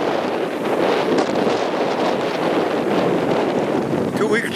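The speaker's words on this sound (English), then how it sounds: "Okay, I know it's a little windy out." Steady, loud wind buffets the microphone beside a newly planted cornfield on a farm, a continuous broadband roar that never lets up across the whole stretch.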